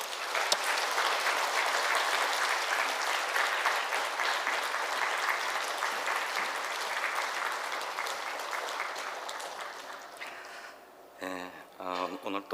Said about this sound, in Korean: 우리 박수로 김권능 목사님 모시겠습니다.